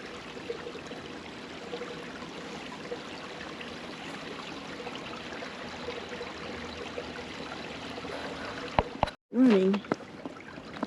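Creek water flowing through a wintry forest in Pennsylvania, a steady low trickling and burbling wash that stays faint and continuous, briefly broken near the end by a short voice.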